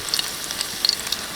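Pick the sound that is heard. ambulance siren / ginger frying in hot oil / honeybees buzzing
ginger frying in hot oil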